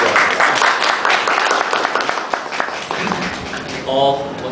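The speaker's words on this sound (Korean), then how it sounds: "박수로 환영해 주시죠." Audience applause welcomes a presenter at a Korean evangelical systematic theology society paper session, clapping steady then tapering as a voice comes in near the end.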